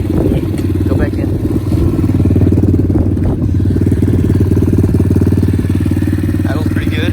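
An Apollo DBX18 dirt bike engine idles cold, slightly high, in a loud steady close-up putter throughout, with brief faint sounds of someone talking over it.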